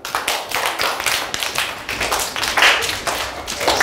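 A group of people clap their hands during a Simon Says game, in a busy burst of rapid, overlapping claps that keeps going without a break.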